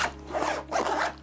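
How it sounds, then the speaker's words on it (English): Dual zipper on a Lululemon Command The Day 25L backpack, two quick close rasping pulls of the zip pull along the track, heard alone. "We do have a dual zipper, guys, which I love because you can open and close your backpack anywhere."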